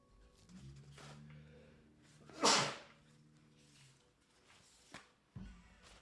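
A single sharp sneeze bursts out in a quiet indoor room, loud and brief, with soft rustling and small knocks before and after.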